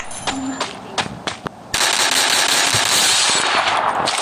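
Gunfire in a battle royale video game: a few sharp isolated shots, then a sustained dense burst of rapid automatic fire that fills the rest of the clip, loud and close.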